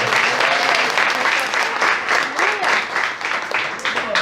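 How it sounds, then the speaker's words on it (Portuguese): A church congregation applauds a pastor in steady, dense clapping that fills the room throughout, with faint voices mixed beneath. "Vamos aplaudir o Senhor pela vida dele."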